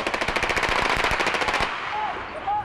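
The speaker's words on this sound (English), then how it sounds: "He eventually exchanged gunfire with police and was shot dead." A rapid burst of automatic gunfire as police exchange shots with a bus hijacker holding hostages in Manila, about a dozen sharp cracks in quick succession, then stopping abruptly with faint background noise.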